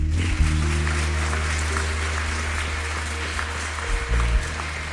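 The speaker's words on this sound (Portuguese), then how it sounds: "Vamos honrar a vida do Fabinho e sua palavra com uma salva de palmas" A congregation at a youth church service claps for Fabinho, a steady wash of hand claps lasting several seconds over sustained low musical tones.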